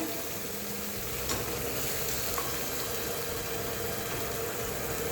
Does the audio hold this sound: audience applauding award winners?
no